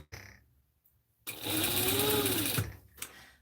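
A sewing machine runs close by in one steady burst of stitching lasting about a second, with quiet pauses before and after.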